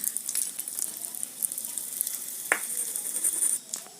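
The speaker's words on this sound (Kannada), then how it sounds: "ಇದಕ್ಕೆ ಇಂಗಿನ ಪೌಡ್ರ್ ಹಾಕ್ಕೊಳ್ಳೋಣ್ರಿ ಇಂಗಿನ ಪೌಡ್ರ್ ಐತಲ್ರಿ ಎಣ್ಣೆ ಹಾಕೊಂಡ್ರಿ" Asafoetida powder hitting hot oil for a homemade kanchi citron pickle gives a steady, fairly quiet sizzle with a few soft clinks and stirring scrapes partway through.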